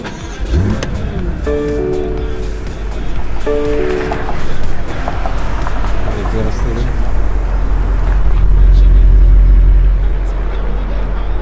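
A 2018 BMW M5 driving, with a steady low engine and road rumble from inside the cabin that builds slightly toward the end, while people talk over it.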